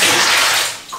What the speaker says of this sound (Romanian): câte pahare de apă ne trebuie ca să umplem o cadă